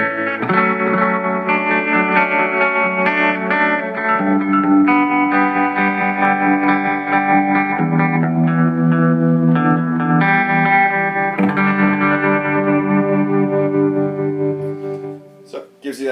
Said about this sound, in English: Gives you that tremolo sound.